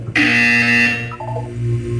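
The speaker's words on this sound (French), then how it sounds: "Vous allez entendre une sonnerie." A loud, harsh electronic buzzer from Portal 2 sounds in one sustained tone, steady for about two seconds with a slight wavering near the end.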